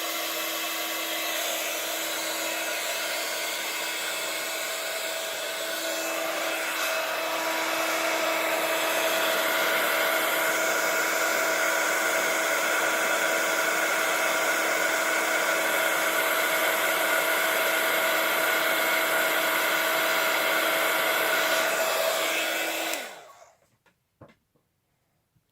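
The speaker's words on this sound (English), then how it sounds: "apologies now for the noise with the heat tool. I'm going to heat that up first." A heat tool warming glue on a Christmas card blows with a continuous loud whirring hiss and a steady whine for over twenty seconds, then switches off abruptly, leaving near silence and a few small knocks.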